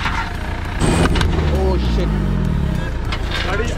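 A Mahindra Thar engine idles and revs in low, rumbling surges while being edged through a tight spot, with people talking over it close by.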